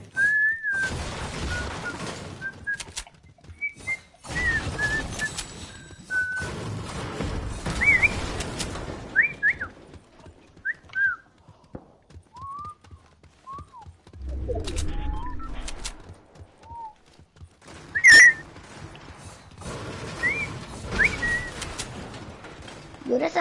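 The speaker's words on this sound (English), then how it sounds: "I don't know how to whistle out, but I know how to whistle in." Person whistling short melodic phrases and bird-like chirps, close and fairly clear, in repeated bursts separated by pauses, with people talking in between.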